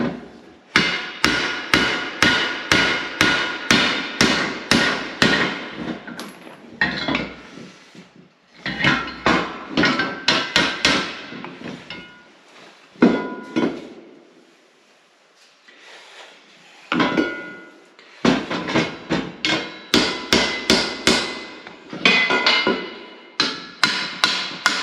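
Repeated hammer blows forge-welding an iron band for a post vise, loud close rhythmic strikes in fast runs separated by short pauses, ringing sharply with no talk.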